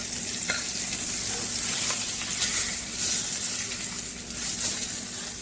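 Crispy-skin salmon fillets sizzle hard in a hot pan, a loud, steady frying hiss throughout with a couple of faint knocks as the fish is flipped.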